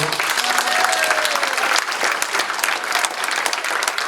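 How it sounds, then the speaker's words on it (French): An audience at a French-Belgian town-twinning gathering claps warmly and continuously, with dense, close applause filling the room throughout. "Je crois que les amis français, on peut les applaudir"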